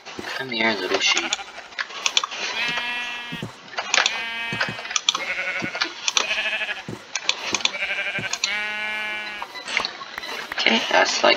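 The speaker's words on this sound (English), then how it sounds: "Come here, little sheep." Several sheep bleats from a modded Minecraft game ring out in quick succession, loud and close, mixed with other game noises while a player talks.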